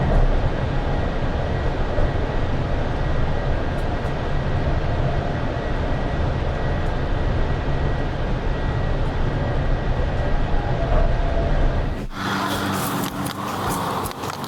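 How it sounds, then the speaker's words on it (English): An 84-ton Class 101 electric locomotive accelerates from a standstill, giving a loud, sustained roar of traction motors and wheels on rail that stays dense and steady before cutting off abruptly. "the 84-ton Class 101 locomotive reaches 140 kilometers per hour from a standstill in 20 seconds"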